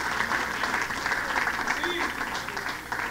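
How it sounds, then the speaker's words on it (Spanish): Steady, dense applause from a large crowd fills the whole stretch, loud and continuous without a break. "Alguien tiene que darle un aplauso al Señor en esta hora."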